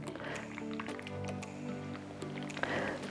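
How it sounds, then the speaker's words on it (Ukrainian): About 300 ml of near-boiling water poured in a steady stream, with a rising gurgling tone as the container fills, and a soft clink near the end. "Наливаємо 300 мл гарячої води, практично окропу."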